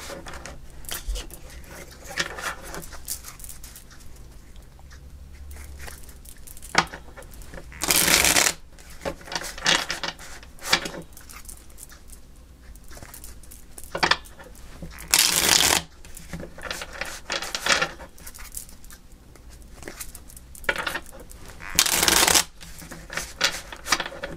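A deck of tarot cards being shuffled repeatedly, with bursts of riffling and soft sliding between them, close by and otherwise quiet.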